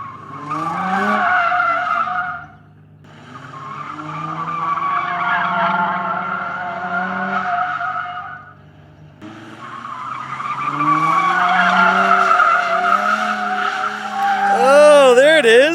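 An Infiniti G35 skids around a skid pad, its tires squealing loudly in three long sustained stretches with engine revving underneath, the pitch wavering as the car slides, while voices talk over it.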